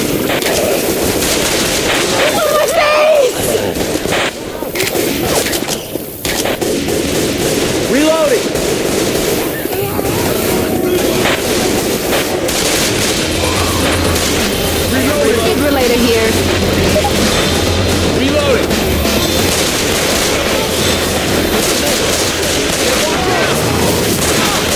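Rapid, continuous gunfire in Left 4 Dead 2 gameplay, with dense overlapping shots and bursts throughout, mixed with players talking.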